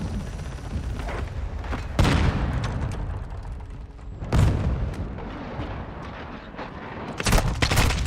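A Semtex grenade detonates in a Call of Duty match, one of several sharp loud blasts spread among steady gunfire and mechanical battle noise.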